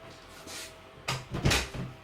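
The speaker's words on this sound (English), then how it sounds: "I realized that I have to close the door" A door indoors at home is pushed shut, with a soft rustle, then a couple of knocking, thudding bumps as it swings and latches, close by in a quiet room.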